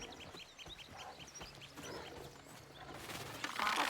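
Clucking and quacking from a duck in the game Soulframe, a run of short repeated calls over a low ambient bed, ending in a burst of louder noise.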